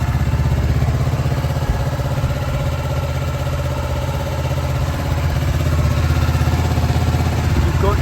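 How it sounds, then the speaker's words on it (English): A 2013 Kawasaki ER-6F motorcycle idles steadily while warming up, a loud, close, even engine throb with a fine mechanical clatter and no change in revs, and no one talking. "Now, I'm just going to let the bike warm up."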